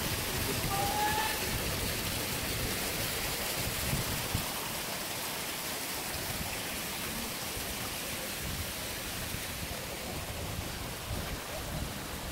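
Water cascades down from a pagoda-style fountain at Tirta Gangga, Bali, a constant, even rushing hiss close by, with some talk faintly beneath it.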